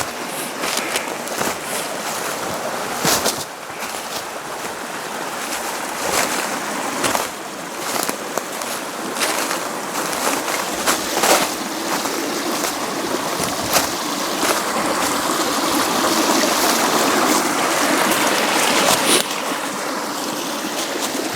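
Creek water running steadily beside a snowy trail in Alabama, a continuous close rushing and trickling with small splashes and crunchy footstep-like knocks scattered throughout.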